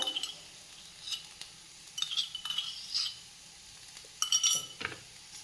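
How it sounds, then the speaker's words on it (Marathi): Ginger-garlic paste and onion are sautéed in a pan for masala Maggi noodles, with soft sizzling under repeated metallic clinks and scrapes of a spoon stirring at an uneven pace. "मिक्स करून घेऊया ही सुद्धा कांद्यासोबत व्यवस्थित आपल्याला परतून घ्यायची आहे आलं लसूणची पेस्ट देखील"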